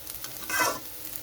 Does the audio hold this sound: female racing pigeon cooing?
no